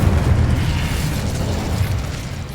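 An Incendio fire spell in the video game Hogwarts Legacy erupts as a loud, sustained rumbling burst, heavy in the low end and slowly fading over a couple of seconds, with no voices on top.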